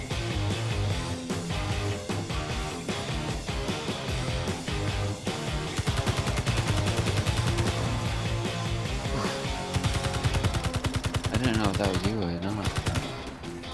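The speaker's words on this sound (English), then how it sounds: "Just took another shot." Gunshots in the Escape from Mars game sound as rapid, continuous, rattling fire over a dense game soundtrack, steady and loud throughout the stretch.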